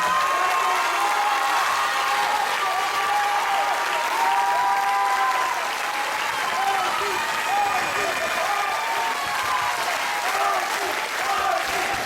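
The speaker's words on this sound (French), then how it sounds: "Donc on peut applaudir ceux de l'Option Théâtre." A school audience claps and cheers for theatre-option students, sustained loud applause with whoops and children's shouts over twelve seconds, voices mingling in the crowd noise.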